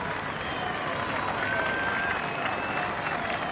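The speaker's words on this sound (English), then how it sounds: "Just listen to the crowd trying to help" A large roadside crowd at the London Marathon roars and applauds continuously as a struggling runner crawls toward the finish, with a faint whistle-like tone and a voice heard over the din.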